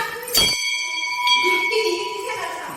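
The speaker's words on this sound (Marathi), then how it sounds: "घंटा वाजवायचा एक" A metal temple bell is struck once and rings on with a sustained, slowly fading tone while someone speaks nearby.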